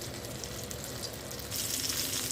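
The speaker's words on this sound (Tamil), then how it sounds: "இது தேவையான எண்ணெய் விட்டு வதக்கி கொடுக்கலாம்." Eggplant sautéing in oil for a vegetable pulao, a continuous gentle sizzle that swells louder and brighter toward the end, heard up close without any talking.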